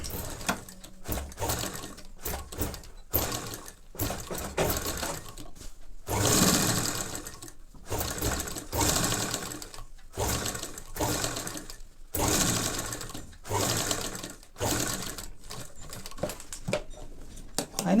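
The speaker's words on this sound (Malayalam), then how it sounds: "അതിനുശേഷം ഇതിങ്ങനെ അകത്തി പിടിച്ചിട്ട് ഈ എൻ്റെ കൂടെ ഒരു തയ്യലിടുക." A sewing machine stitches an invisible zip in bursts of rapid mechanical whirring, each run lasting a second or two and separated by brief pauses. The sound is close and fairly loud, with no talk over it.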